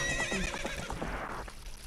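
Epona, the horse in the video game The Legend of Zelda: Ocarina of Time, gives a single loud whinnying neigh lasting nearly two seconds, close up and alone, with no talk over it.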